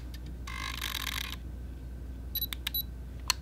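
A roughly 20-year-old digital camera taking a picture: a whirring lens motor, then a few sharp, close shutter clicks and electronic beeps in a quiet room.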